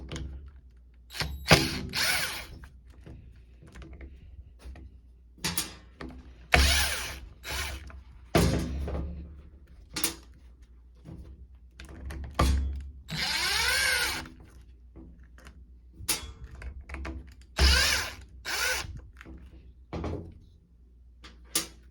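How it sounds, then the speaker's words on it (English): A cordless power driver with a T20 Torx bit backs screws out of a Porter Cable sander in short, close bursts of buzzing whir, separated by pauses, clicks and small handling knocks. "just take these 4 screws out"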